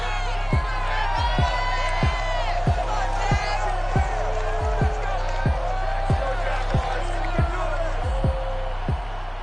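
A stadium crowd in the Madden NFL video game cheers for the Jacksonville Jaguars at kickoff, a steady roar pierced by whoops, with a heavy rhythmic thump pounding about once a second throughout.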